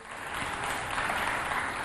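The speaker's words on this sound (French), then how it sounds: "Est-ce qu'on peut applaudir chaleureusement pour ces enfants" An audience at a Day of the African Child event applauds the children, a short, dense wash of clapping at a steady level with no talk.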